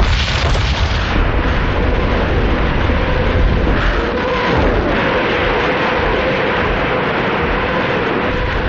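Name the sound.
artillery barrage and rocket launchers firing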